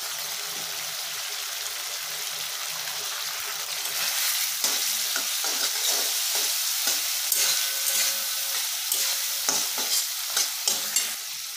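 Spice paste with tomato and Kashmiri red chili powder being stirred and fried for a Bengali tilapia macher jhal, a steady close sizzle with repeated scraping stirs that grow louder and more frequent in the second half.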